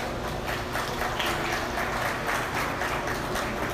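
Crowd applause at a 2022 dairy cattle show, honoring heifer exhibitors receiving purple ribbons in the morning; dense, steady clapping from many hands fills the whole stretch at an even level, with no voices over it.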